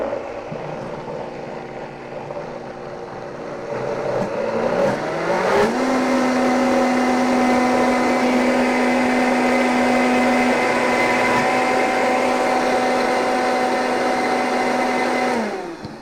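A countertop blender whirs loudly through a batch of dairy-free sour cream, the motor ramping up after a brief start and holding a steady high whine for about ten seconds before cutting off at the end.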